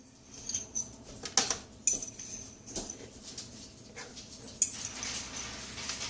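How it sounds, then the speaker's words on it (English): A fork scrapes and pulls food out of a pan for a warm kale salad, making a series of close metallic clinks and short scrapes of varying loudness with quieter handling between. "And then I use a fork to pull everything out."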